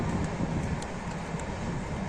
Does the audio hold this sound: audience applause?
no